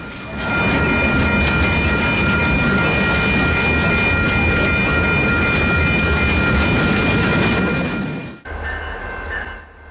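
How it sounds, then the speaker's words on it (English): A CP local freight, C-46, rolls past close by with flat cars loaded with fresh telephone poles: a loud, continuous rumble and rattle of wheels that holds steady for several seconds, then drops away sharply. "Today, C-46 had these flat cars with fresh telephone poles going somewhere."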